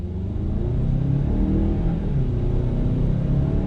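A 2021 Mazda CX-9 Signature SUV accelerates hard in sport mode, its engine giving a loud, steady, rising drone heard from inside the cabin with no talking.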